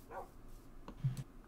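Minecraft dog, a tamed wolf, gives a couple of short, fairly quiet barks near the end, preceded by a faint higher yip, over low background hum with no talking.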